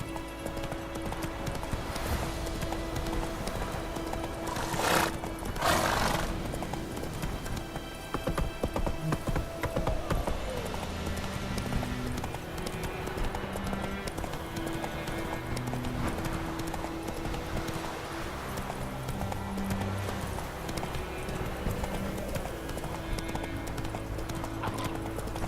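Roach, the horse in the video game The Witcher, gallops with steady rhythmic hoofbeats close by, a brief whinny near the start, over a continuous game music and ambience bed.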